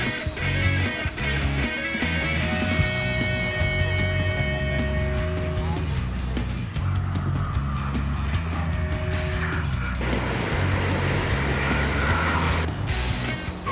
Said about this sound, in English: This is a 1/7 scale version of the B50. It's electric powered.